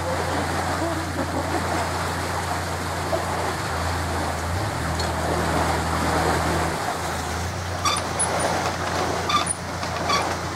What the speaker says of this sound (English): there's a boat coming up